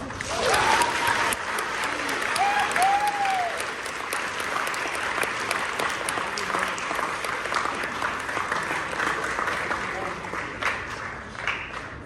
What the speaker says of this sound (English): I really think we should give them all a big round of applause as a thank you